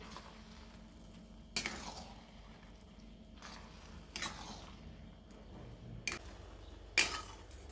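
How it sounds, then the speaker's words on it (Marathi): A spoon stirs gulamba, a jaggery and mango preserve with crushed cardamom, in a simmering pot. Four faint, separate clinks and scrapes sound against a quiet kitchen background. "एकसारखे हलवून घेणार आहोत"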